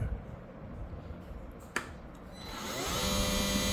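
A Total TGWPLI201801 cordless 20V 180W battery water pump switches on after a stretch of low background noise and a single sharp click, its electric motor whine rising in pitch as it spins up and then running steadily, fairly close.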